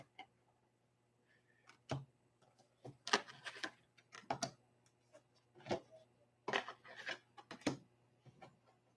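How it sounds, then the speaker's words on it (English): Quiet riffling and snapping of a brand new deck of playing cards being shuffled, a series of short crisp bursts and soft taps spaced irregularly, close and faint with no talking. "This is how I shuffle a brand new deck."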